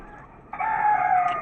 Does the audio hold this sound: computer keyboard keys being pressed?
no